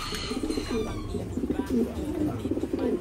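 Pigeons coo repeatedly in a loft, a series of soft, rolling low calls close by, over a steady background hum of birds and ambient noise.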